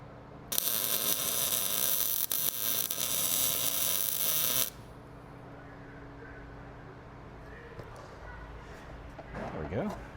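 A welder puts a tack on a tube at the coilover tower of a 1986 Toyota 4Runner. A loud, steady crackling buzz lasts about four seconds, and then quieter shop noise and handling sounds follow.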